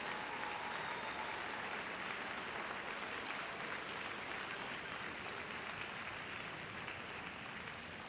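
Steady, dense audience applause at a junior handlers dog show final, sustained clapping from a crowd at even loudness throughout, with no voices standing out.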